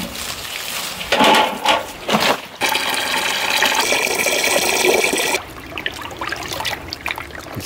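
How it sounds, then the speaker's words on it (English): Deer hide being rinsed with water, loud splashing and running water in bursts, then a steady rushing stream, close up with no talk. "I wanna rinse that off and then get it soaking in fresh water."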